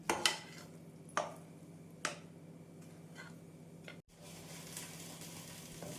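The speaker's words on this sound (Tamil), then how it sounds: "நாம் எண்ணெய் ஊற்ற நன்றாக பொரிந்து வரும்." Mysore pak mixture bubbling in ghee as it is stirred, with a few sharp utensil taps against the pan over a quiet, steady frothing hiss.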